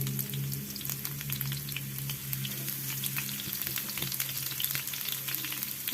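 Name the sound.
sliced shallots frying in hot oil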